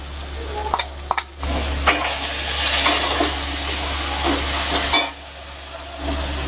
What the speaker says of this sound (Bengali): টমেটো নরম হওয়া পর্যন্ত একটু নাড়াচাড়া করে নেব। বেটে রাখা মশলাটা দিয়ে দেব।